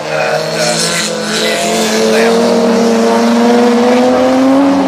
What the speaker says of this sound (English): Cars in the field coming across the line